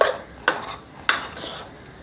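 A metal spoon scrapes and clanks against a pan three times while fried rice with a little lemon juice is stirred, each sharp knock followed by a soft scraping tail.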